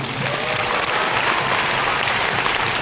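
Dense, loud applause from a concert audience at a Thai music show, a continuous wash of clapping from a big crowd that holds steady from start to end.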